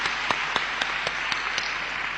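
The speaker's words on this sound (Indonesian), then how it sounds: "Mari beri tepuk tangan" A church congregation claps to welcome a guest pastor. The handclaps are faint and fairly distant, falling in a quick, even rhythm of about eight beats.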